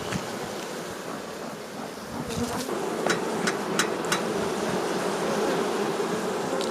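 Honey bees buzz loudly and continuously at a hive being smoked during winterizing, a close dense drone with a few sharp knocks partway through.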